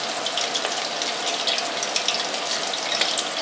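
Onion rings fry in hot oil as a dense, steady hiss and crackle at close range, with no voices.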